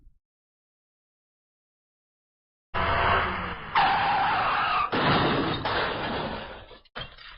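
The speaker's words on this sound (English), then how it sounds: "Like a car crash, right?" A car crash sound effect: a sudden loud burst of skidding tires and grinding, crunching impact noise that surges in several waves after a near-silent start, then cuts off and briefly returns.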